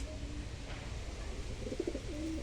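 Soft cooing of pigeons over a quiet outdoor background, a few short repeated calls, faint and somewhat distant.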